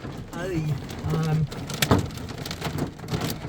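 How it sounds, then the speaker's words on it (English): Hail and heavy rain drumming on a truck camper during a storm near Rushmore and Yellowstone, a dense steady patter with a sharp crack, as a person talks over it. "is that hail?"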